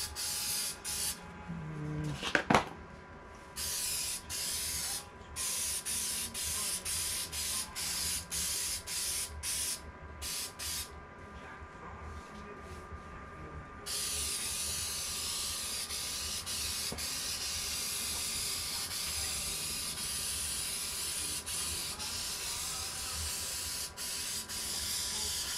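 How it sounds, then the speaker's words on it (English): Spray adhesive is applied to the edges of a car dash pad, a series of close, loud aerosol hisses in bursts of a second or two, then a long continuous spray running to the end. "spray your edges really good"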